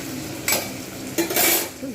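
Sliced onions sizzle in a pan with potato and ridge gourd for a thin Bengali katla fish curry. Two short bursts of stirring scrape over the steady hiss.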